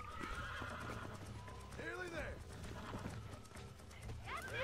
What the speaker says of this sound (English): Now we need to keep ourselves centered in the middle of the horse, so we can break it.